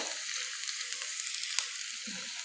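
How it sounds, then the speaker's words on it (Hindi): Onions lightly frying in a pan give a soft, steady sizzle with a gentle hiss, fairly quiet and close, with a faint clink near the middle and no voices. "ये प्याज हमारा हल्का हल्का सा फ्राई होने लग गया है"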